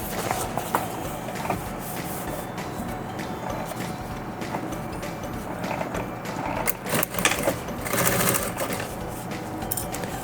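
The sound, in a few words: sewing machine stitching the middle seam of a bag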